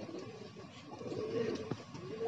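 Pigeons coo in a steady low murmur close by, a flock settled and resting in hot 40-degree sun after flying, with soft overlapping calls and no talk.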